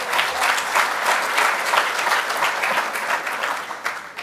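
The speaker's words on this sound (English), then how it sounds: "So let's give him a round of applause." Crowd at a Miami public event applauds steadily, thick continuous clapping from many hands at moderate volume, fading slightly at the close.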